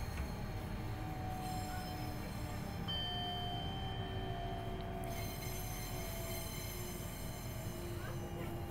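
A Class 395 electric train in Train Simulator 2020 runs steadily near Rochester with a constant rolling hum, faint wheel squeals and whining motor tones rising and shifting, no voices.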